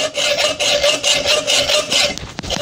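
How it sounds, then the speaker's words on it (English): A hacksaw cuts through a workpiece clamped firmly in a mechanical vise, giving steady back-and-forth rasping strokes, loud and close, with a few sharper scrapes toward the end. "I'm going to cut with the hacksaw."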